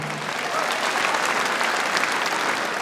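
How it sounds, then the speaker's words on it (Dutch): Audience applause ringing out for stallions on their lap of honour at a Dutch horse show, dense and steady throughout as a large crowd claps together. "allemaal nog even extra applaus voor deze hengsten in de ereronde"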